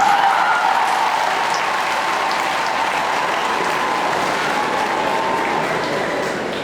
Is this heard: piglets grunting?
no